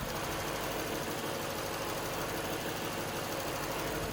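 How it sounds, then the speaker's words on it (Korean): A fourth-generation Lexus LS 460L V8 engine idling, a low, steady hum with an even rumble and a faint rhythmic throb, no voices, constant level throughout. "엔진 소음 한번 들려드릴게요"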